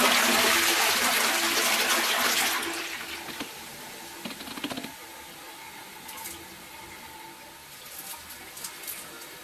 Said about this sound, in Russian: Почистила, делаю смыв.